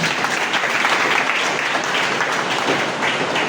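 A church congregation applauds and acclaims the Lord Jesus, a dense, steady wash of many hands clapping that stays loud and even throughout.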